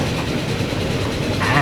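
Express train in Transport Fever 2 rolling past with a steady rumble and faint rail clatter, continuous and fairly loud, a brief higher squeal near the end.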